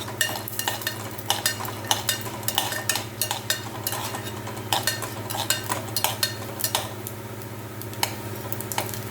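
Urad dal, chana dal and mustard seeds tempering in hot oil with asafoetida, a close crackling sizzle with rapid irregular pops and ticks over a low steady hum.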